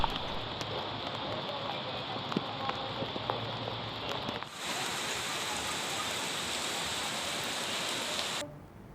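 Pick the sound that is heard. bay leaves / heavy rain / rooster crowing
heavy rain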